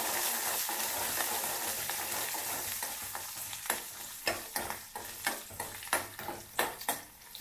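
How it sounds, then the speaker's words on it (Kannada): Garlic and green chilies frying in hot oil as a tempering for peanut chutney, a continuous close sizzle with a run of rhythmic spoon stirs and scrapes toward the end. "ಸ್ವಲ್ಪ ಎಲ್ಲ ಫ್ರೈ ಆಗ್ಲಿ ಚೆನ್ನಾಗಿ ಕೆಂಪುಗಾಗಲಿ"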